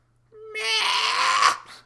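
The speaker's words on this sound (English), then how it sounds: "he was just pacing around my chair doing that meow" A house cat lets out a single loud, drawn-out meow close by, rising then trailing off over about a second.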